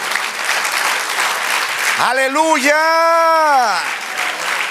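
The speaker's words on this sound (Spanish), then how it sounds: "Dale un aplauso al Señor" Steady applause from a church congregation fills the room throughout, while midway a single voice rises above it with a long sung exclamation.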